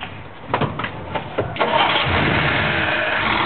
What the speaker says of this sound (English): Tell me if it comes on when I hit the starter.